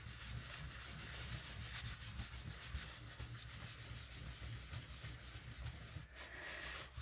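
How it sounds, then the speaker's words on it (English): A paper towel rubs steadily over clear embossing powder on a card, making a continuous soft, close scrubbing sound with no pauses. "And we're going to rub it off right over that clear emboss powder."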